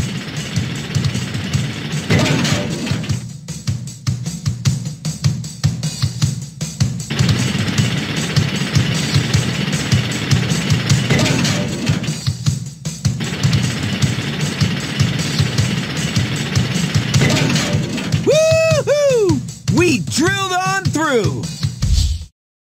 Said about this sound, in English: This is a bigger rock with more mass. It's taking us longer to drill.